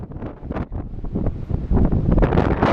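Strong wind blowing at the rocky coast near the Benagil sea caves in Portugal, a steady, loud rush of gusts buffeting the microphone and building stronger toward the end, heard alone without talk.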